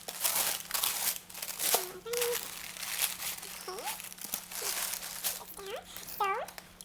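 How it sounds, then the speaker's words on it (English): Brown tissue paper crinkling inside a Gucci heel sandal box, crisp intermittent rustles and crumples close by, under a voice. "it has tissue paper that mimics the imprint that's on the outside"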